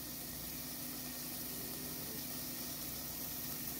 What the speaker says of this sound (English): I did end up adding a little bit of the wine in here just to deglaze the pan a little and add some flavor